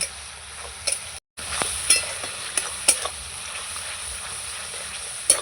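Spices sautéed and stirred together in a pan for a Bengali dish, giving a steady close sizzle broken by occasional scraping clinks of a spoon against the metal.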